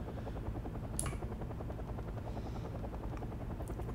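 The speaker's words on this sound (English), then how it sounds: "worthless air defense gunners can't hit a basically stationary helicopter" A helicopter hovers almost in place in the video game Wargame, its rotor beating in a steady, continuous chop at moderate loudness with a faint higher whine, and no voices.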